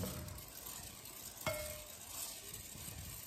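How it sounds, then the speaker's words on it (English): A short hiss of Pam cooking spray misting into a bowl before seasoning chicken, a brief burst near the middle of the clip over quiet kitchen background noise. "First thing I'm gonna do is spray my bowl with Pam"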